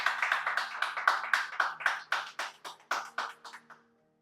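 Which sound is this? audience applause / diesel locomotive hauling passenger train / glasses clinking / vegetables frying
audience applause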